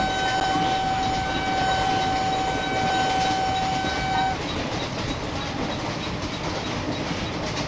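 Vande Bharat Express running at about 100 km/h in Train Simulator, Solapur to Mumbai, passing Curry Road station: a loud, steady rumble with a sustained horn tone for the first four seconds, then continued running noise.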